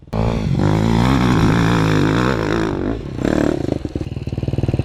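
A sand-riding enduro motorcycle revs loud and close, holding a sustained roar before it dips briefly and picks up again into a rhythmic, chugging throttle burst.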